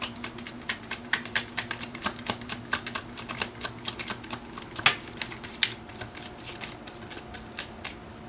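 A deck of tarot cards is shuffled and cards are drawn, giving quick, close, rhythmic riffling snaps that repeat steadily with no talking.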